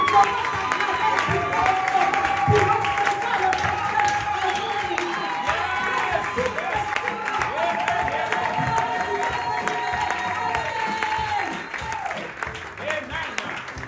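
A church congregation at a worship service applauds and cheers in a sustained, dense wash of clapping with raised voices that carries on for several seconds before gradually thinning out.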